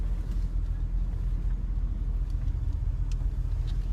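Chevy SSR V8 truck backing up in reverse, a steady low engine rumble that stays close and fairly loud throughout, with faint light clicks on top.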